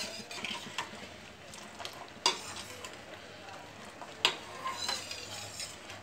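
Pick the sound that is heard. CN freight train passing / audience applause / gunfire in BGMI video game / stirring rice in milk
stirring rice in milk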